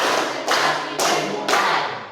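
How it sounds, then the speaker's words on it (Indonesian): A school class performs a rhythmic concentration clap together, three sharp unison bursts of clapping spaced about half a second apart, each followed by a brief ringing tail, loud and close with no talking. "kita coba tepuk konsentrasi di penghujung. Tepuk konsentrasi."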